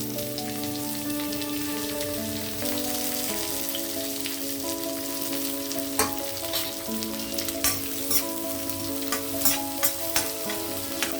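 Onion dropped into oil with tempering spices fries with a bright, continuous sizzle, joined by scraping stirs and a few sharper clinks of a spoon on the pan toward the end, with no one talking.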